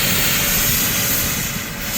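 A 100-year-old steam locomotive runs up close, giving a loud, steady roar of hissing steam and rumble that fills the whole clip with no voices.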